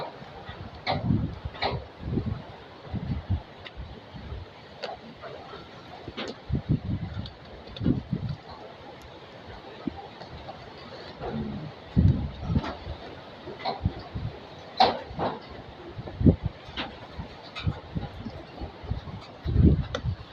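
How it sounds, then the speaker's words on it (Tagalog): Gusty wind buffets the microphone in irregular low rumbling bursts, with faint background sounds between gusts. "Grabe ang hangin"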